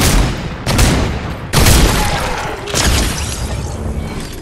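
Loud gunfire in the video game Fortnite: several sharp shots burst out in quick succession over the first three seconds, with crashing, booming game effects ringing between and after them.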